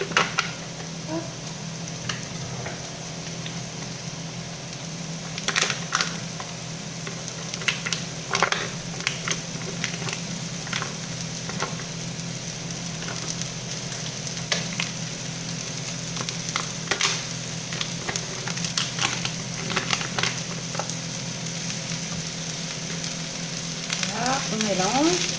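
Lardons and cooked onions fry in a pan for a tart filling, a continuous close sizzle broken by scraping stirs and occasional clatter, building toward the end.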